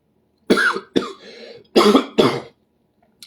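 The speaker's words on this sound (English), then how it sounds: "now I'm coughing because I swallowed tea down the wrong pipe" Four harsh, close coughs in two pairs, loud and abrupt, separated by short pauses, with no speech, from tea swallowed down the wrong pipe.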